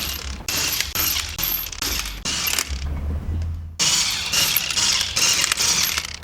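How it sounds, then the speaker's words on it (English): Ratchet removing wheel bolts on a BMW E30 in a garage, with quick bursts of close, loud clicking, short pauses between strokes, and a brief quiet gap before the clicking resumes. "We're going to take all these bolts off, get this wheel off"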